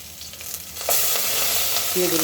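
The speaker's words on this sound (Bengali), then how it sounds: "তো পেঁয়াজ নাড়াচাড়া করছি" Onions being stirred as they fry in a pan, a steady sizzle that swells louder partway through, with faint stirring noises under it.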